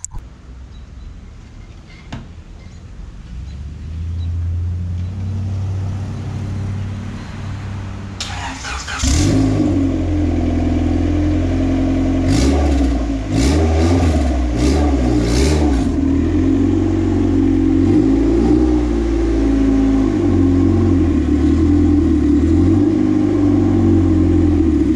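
A Honda Civic engine idles and then revs as the car creeps slowly into a garage, the motor droning steadily close by with some clunks and rattles.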